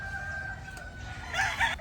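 Chickens and a rooster on a small farm beside a newly built coop, with a crow and clucking rising near the end over steady low background noise.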